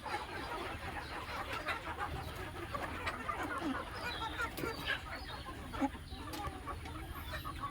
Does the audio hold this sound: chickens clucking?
yes